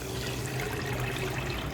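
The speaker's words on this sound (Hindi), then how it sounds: "इसके अंदर हम चीनी ऐड करेंगे और साथ ही हम यहाँ पर पानी ऐड कर देंगे।" Water pours steadily into a cooking pot holding sugar to make syrup for mango squash, giving a continuous splashing rush with no talking.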